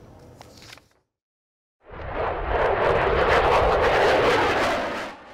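An F-35 fighter jet roars past, its engine noise rising quickly after a brief silence into a loud, broad, sustained rush that holds for several seconds before easing off.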